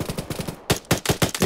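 A BRDM armored car's machine gun in Arma 3 fires rapid bursts, loud and close, with a brief gap between two strings of sharp, evenly spaced shots.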